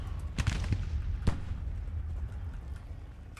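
Distant troop gunfire in the Civil War strategy game Grand Tactician at the Battle of Holly Springs, a few scattered booming shots early on, then fading into a low rumbling battlefield background.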